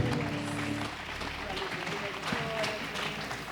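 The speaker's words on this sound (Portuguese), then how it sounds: "Dê mais uma grande salva de palmas" A congregation at a church service claps in a continuous, moderately loud wash, with sustained musical tones and voices mixed in at the start before the applause carries on alone.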